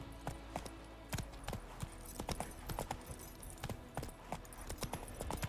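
Horse hooves clatter in a steady galloping clip-clop in The Witcher 3 on PS5, with sharp repeated hoofbeats running continuously over a low game ambience.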